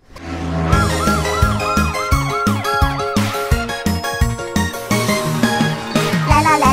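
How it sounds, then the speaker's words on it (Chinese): A cartoon fire engine siren from a children's animated song about a forest fire wails in repeated rising and falling sweeps, woven into loud, busy music with drums and bright melodic instruments throughout. "来啦来啦，消防车来啦！ 大家请让开，它跑得快！"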